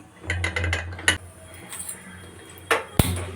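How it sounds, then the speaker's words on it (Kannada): A pressure cooker lid is fitted and locked shut, giving a few sharp metallic clicks and clanks, the loudest near the end, amid quieter kitchen handling noise. "ಇವಾಗ ಉಪ್ಪನ್ನ ಸೇರಿಸಿ ಕುಕ್ಕರ್ ಲೀಡ್ನ ಕ್ಲೋಸ್ ಮಾಡ್ಕೋತಾ ಇದ್ದೀನಿ"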